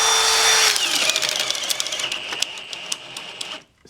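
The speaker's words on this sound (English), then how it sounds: "See, this drill just doesn't have no poop like the other one." A power drill at a sawmill whines loudly at first, then drops in pitch as it bores through wood, with rapid rattling clicks before stopping abruptly.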